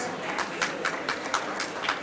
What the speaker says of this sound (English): I'd like to give a round of applause to these folks